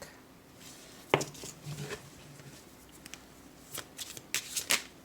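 A tarot card deck shuffled by hand, soft riffling and papery slaps in a few quick bursts, close and fairly quiet, with no talking.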